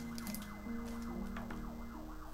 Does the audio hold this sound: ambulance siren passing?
yes